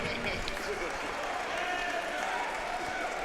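A crowd at an MMA event applauds and cheers for a fight winner, a loud, dense wash of clapping and voices holding steady throughout.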